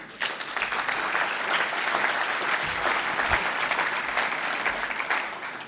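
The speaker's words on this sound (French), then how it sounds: "donc je vous demande de les applaudir" Sustained applause from the audience at a national council meeting of a political party, honoring campaign staff after departmental elections; a thick, even roar of many hands clapping for nearly six seconds with no talk over it.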